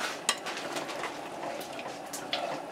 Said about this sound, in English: So now I'm adding the two chopped onions to the meat.